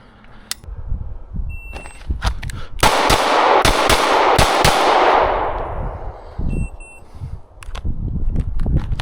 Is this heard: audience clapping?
no